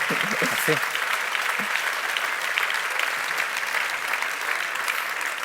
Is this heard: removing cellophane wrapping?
no